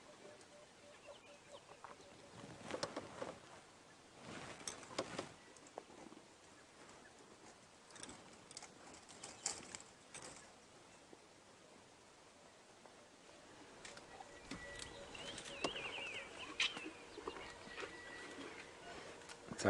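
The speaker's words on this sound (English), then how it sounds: "enjoy all the different sounds of the elephants and the birds around us." Scattered bird calls in the African bush, faint and distant, over a quiet outdoor background with occasional rustling.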